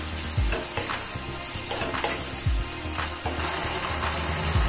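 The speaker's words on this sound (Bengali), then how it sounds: "এবার এটাকে আমরা ভালো করে মিশিয়ে নেব।" A spoon mixes soy sauce and black pepper powder together for a Manchurian sauce, making a few wet scraping strokes over a loud, close background hiss, with no talking.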